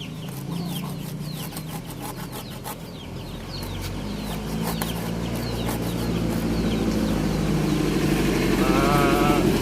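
Chickens cluck and chatter nearby over a constant low engine rumble, with scattered bird calls and a busy outdoor backdrop.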